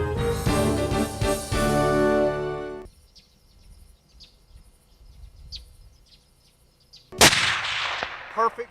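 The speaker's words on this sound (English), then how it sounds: "Rick was shooting a 30-06 rifle with a Federal Premium 165 grain Nosler ballistic tip bullet" A 30-06 rifle firing a Federal Premium 165 grain Nosler ballistic tip bullet on a Colorado hillside during a mule deer and elk hunt: one sharp, loud crack near the end, after a quiet stretch with faint bird chirps.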